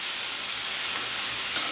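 Amaranth leaves fry in a pan, giving a steady, close, even sizzle with faint stirring and no voices.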